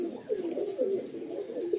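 A female pigeon of a Malwai breed, at a pigeon seller's in Kolkata, gives a run of soft, repeated throaty coos, close and clear over faint background noise.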